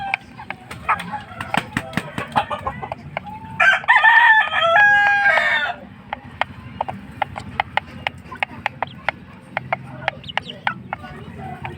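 Two-month-old pet chickens cluck in sharp, rapid clicks throughout while a rooster lets out one loud crow partway through, nearby and clear.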